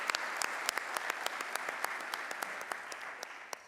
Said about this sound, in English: give Peter Frosch a round of applause